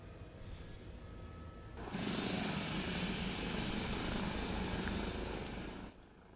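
Airbus H160 helicopter engines in Microsoft Flight Simulator, a steady turbine hum at idle that swells into a louder, fuller whine as the second engine comes up, then drops back near the end.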